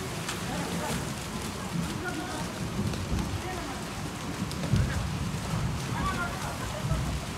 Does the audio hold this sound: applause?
no